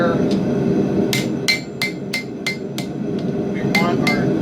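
A hammer strikes a steel knife tang held on the edge of an anvil while drawing it out, a series of sharp ringing blows in a steady rhythm over a constant background hum of a forge.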